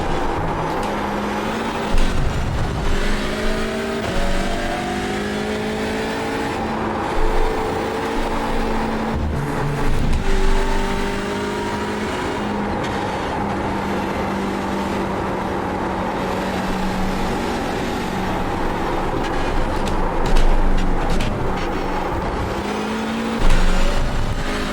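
A Hyundai Elantra TCR race car laps Snetterton circuit, its engine droning loudly from onboard, pitch climbing through each gear and dropping sharply at shifts and braking, with rushing wind and rumbling over kerbs.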